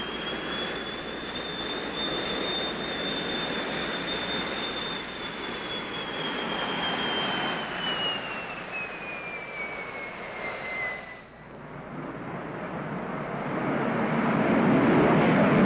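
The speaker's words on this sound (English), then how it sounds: "then we're going to fly by with the afterburner on" A jet with afterburner on roars past in a loud, sustained rush with a whining tone that slides downward, dips briefly, then swells into a deep thundering roar.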